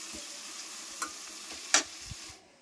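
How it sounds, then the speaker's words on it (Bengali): A spoon stirs spices into onion and tomato frying in a pan, a soft continuous sizzle with a few sharp clicks of utensil against the pan before it cuts off. "এটা ভালোভাবে নরম হয়ে গেছে পেঁয়াজের টমেটোটা এবার আমি মশলাটা দিয়ে দেবো"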